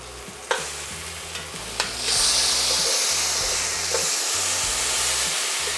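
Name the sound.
salmon fillets searing in a pan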